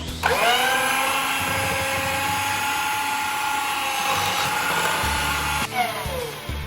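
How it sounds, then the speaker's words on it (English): Electric hand beater whirs through cream cheese filling for a Lotus Biscoff cheesecake, a loud steady whine spinning up at the start and running evenly, with a brief change in pitch near the end. "Now we beat it well with the help of beater."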